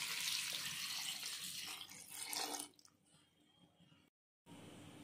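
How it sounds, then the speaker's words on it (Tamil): Water poured into a bowl of salted cauliflower florets, a broad continuous splashing and trickling for under three seconds, then quieter drips and settling water before a brief cut to silence. "காலிஃப்ளவர் முழுகிற அளவுக்கு தண்ணி ஆட் பண்ணிக்கலாம்."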